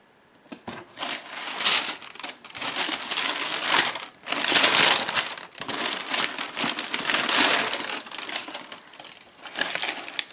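Crinkling wrapping paper pulled from a Footlocker shoebox while unboxing Jordan 6 Retro Hare sneakers, a loud, close, continuous rustle and crumple in uneven waves with brief pauses.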